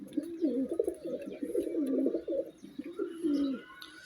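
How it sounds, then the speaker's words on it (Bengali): A male pigeon kept with young pigeons coos in close, throaty, rolling phrases, with faint chirps and rustling behind them and no talk. "এটা আমার নর আর কিছু বাচ্চা কবুতর একসাথে রাখা"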